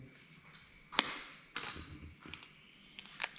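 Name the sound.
egg being cracked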